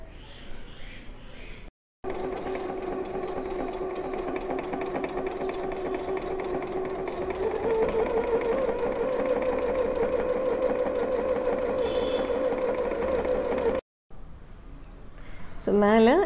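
An Usha DreamMaker 120 sewing machine stitches a seam folded over by about half to three-quarters of an inch, with a steady, fast mechanical whirring that runs close and loud for about twelve seconds, stops briefly, then starts again.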